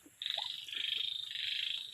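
Frogs of mixed sizes croaking together in a crowded breeding pen, a dense, continuous chorus of rapid pulsing calls that starts abruptly and holds steady at moderate loudness, with no one speaking.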